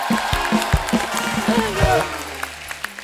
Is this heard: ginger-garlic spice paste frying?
no